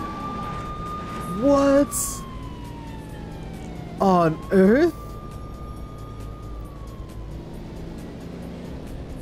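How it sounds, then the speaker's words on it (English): A police car siren in the Corvette 50th Anniversary racing game sounds as a steady wailing tone that slowly falls in pitch, running under engine hum and short, excited bursts of a voice. "wait, is that a police car?"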